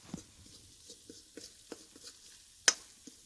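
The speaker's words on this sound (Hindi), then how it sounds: "घी हमारा अच्छे से गर्म हो चुका है, ये देख सकते हो आप। तो इसमें डाल रहे हैं अब आटा।" Flour is stirred into hot ghee in a pan, with a faint sizzle under soft, irregular scraping strokes and one sharper clink partway through.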